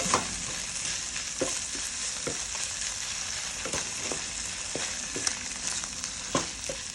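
Pork being stir-fried with garlic for pad thai, a continuous hiss of frying with repeated scraping and tapping strokes of the spatula against the pan, close and moderately loud.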